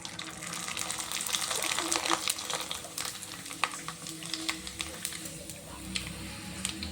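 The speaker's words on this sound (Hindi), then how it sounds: "देखिए पापड़ को इस तरीके से हम फ्राई कर लेंगे" Papad frying in refined oil in a frying pan on a gas stove, a steady broadband hiss and bubbling sizzle with scattered crackles, continuous throughout.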